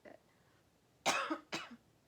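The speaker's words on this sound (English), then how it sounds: "Excuse me for coughing." Two short, harsh coughs close up, one right after the other, following a brief quiet moment.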